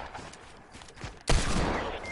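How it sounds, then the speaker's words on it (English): Hand cannon gunfire in a video game, a loud sharp blast bursting in after a quieter stretch and ringing on with dense crackling noise to the end. "He's literally just using a hand cannon."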